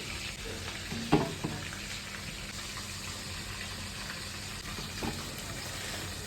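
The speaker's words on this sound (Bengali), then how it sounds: "রোস্টগুলো ভাজার পরে আমি রোস্টগুলো উঠিয়ে নিচ্ছি" Chicken roast pieces fry in hot oil in wedding-style cooking, a constant close sizzle and bubbling with a couple of brief clinks of a utensil, and no one talking.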